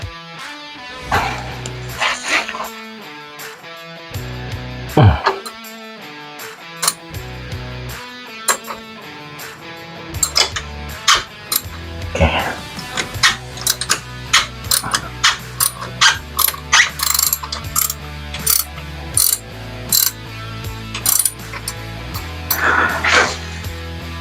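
Wrench work removing a stiff old oil filter from a 2003 Harley-Davidson Electra Glide, with repeated ratcheting clicks and metallic mechanism sounds in uneven bursts over loud tonal background music.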